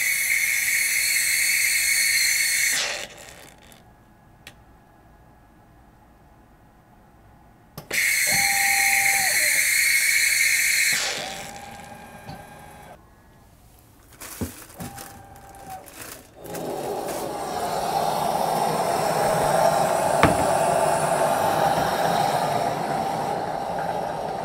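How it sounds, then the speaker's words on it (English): A Sure Tamp cleaning machine steams in several loud hissing bursts separated by quieter gaps, with a sustained steady steam hiss filling the final stretch; no voices are heard. "you will see that the machine suddenly starts to steam"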